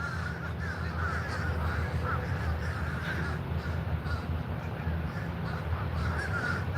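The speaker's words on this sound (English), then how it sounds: "That's why it's illegal to own a crow." Crows caw repeatedly in a rough, scattered chorus over a steady low rumble of background noise, with no voices.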